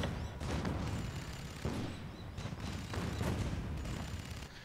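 Rapid turret gunfire in the Spore video game during a battle for spice, dense and continuous bursts of shots with booming impacts filling the whole stretch at steady loudness.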